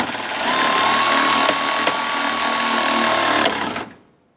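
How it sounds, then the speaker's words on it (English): A power tool tightens a bolt on the headlight support bracket of a Ram 1500 pickup, a loud, close, continuous whirring buzz lasting a few seconds before it stops abruptly. "we're going to tighten down this bolt"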